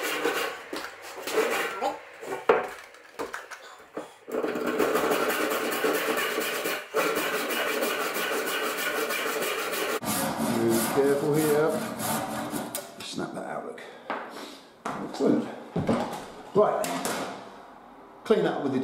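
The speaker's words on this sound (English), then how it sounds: "Better off to cut, as I said, away from the line, and then I can pare that down." Hand saw cutting the tenon on a wooden newel post, a long steady rasping stretch with short bursts of strokes before and after, close and fairly loud with no talking over it.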